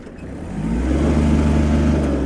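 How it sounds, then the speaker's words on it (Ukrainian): A Kubota GL-320 mini tractor's mid-pitched engine revs up and holds a steady, loud drone under load, close by. "Звернули увагу на вихлоп під навантаженням"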